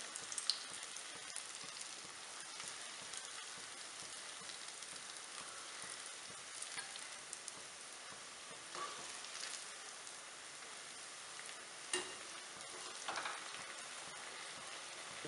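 Mysore bonda batter fries in hot oil, giving a soft, even, continuous crackling hiss like light rain, with occasional small pops; faint and steady throughout, no voices.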